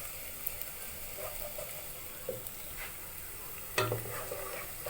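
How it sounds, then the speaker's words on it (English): Onions stir frying in a non-stick pot, a soft continuous sizzle with faint scrapes and clinks of a utensil being stirred, quiet and close, with no talking. "Put in our onions, and then we'll stir fry until it is translucent."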